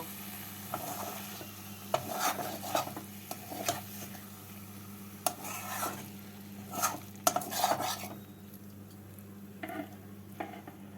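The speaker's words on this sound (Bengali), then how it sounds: "গ্যাসটাকে বন্ধ করে ধনে পাতা আর তেলটাকে সিমের সাথে মিশিয়ে নেব" A spoon stirring chopped coriander leaves and raw mustard oil into cooked flat beans in a pan, with scraping and clinking against the metal, soft sizzling beneath and brief pauses between strokes.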